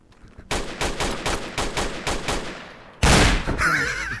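Rapid automatic gunfire bursts in the game Virtual Battlegrounds, a quick rhythmic string of shots followed by a louder blast and lingering noise, with no talk over it.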